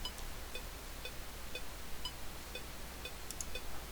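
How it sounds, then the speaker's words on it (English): Steady, evenly spaced electronic clicks tick about twice per second over a faint background hiss, with no voices. "You can also use the click track if you'd like"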